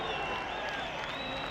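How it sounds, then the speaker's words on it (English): A large crowd at the 2013 Qatar MotoGP race applauds and cheers a rider arriving in parc fermé, a dense, continuous roar of clapping and shouting with no break. "Listen to the crowd that he's getting as he makes his way into Parc Ferme."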